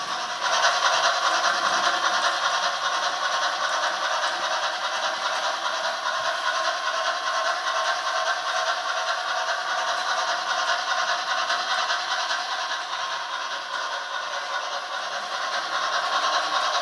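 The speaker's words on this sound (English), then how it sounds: "Look what I got, a cool train." A toy train runs with a steady, even whirring hiss and faint rattle, holding a constant level throughout.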